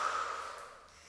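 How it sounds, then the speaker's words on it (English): A single breathy exhale through pursed lips during a Pilates exercise, close and airy, fading out over about a second. "Inhale down, exhale up."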